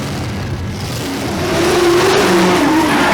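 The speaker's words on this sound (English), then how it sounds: "the Nats bring more of the custom high-end blown V8s and other street power to take part in this event" A blown V8 custom street car engine revs hard at the Summernats car festival, a loud, steady roar that climbs in pitch and swells louder about halfway through, with no voices.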